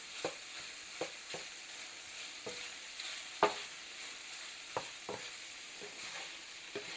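A spoon stirs stuffed pepper filling in a pan, scraping in a series of sharp, irregular knocks and scrapes over a soft, continuous sizzle, close and fairly quiet with no talking.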